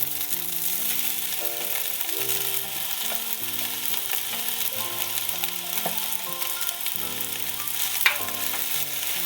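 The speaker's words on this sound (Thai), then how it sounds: "พอผัดจะเข้าร่วนดีแล้วใส่หมูผัดกิมจิลงไป" Kimchi pork fried rice stir-fried in a pan, a steady dense sizzle with continuous scraping and stirring, close and loud throughout, no speech.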